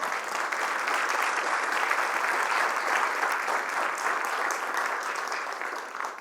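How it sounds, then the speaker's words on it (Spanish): A church congregation claps for the Lord during a sermon, a dense, sustained wash of applause that stays even for several seconds before easing slightly at the end. "Démosle un aplauso al Señor"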